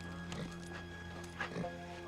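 A horse in a dusty Western town, with soft hoof clip-clops and faint snorting sounds under a steady low hum, the thuds quiet and scattered.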